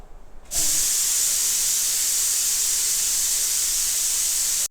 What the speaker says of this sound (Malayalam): ഒരു വിസിലാകുമ്പോൾ ഓഫ് ചെയ്യാം.